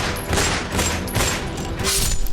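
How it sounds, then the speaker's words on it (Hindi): A volley of gunshots rings out at a petrol pump in Gokulpuri, Delhi, loud and rapid, with the bangs blurring into one another for a couple of seconds. "16 राउंड से ज्यादा फायरिंग।"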